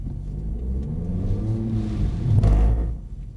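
Mercedes-Benz car engine revving hard at full throttle on a driving track, a steady loud rumble that swells and peaks near the end before easing slightly.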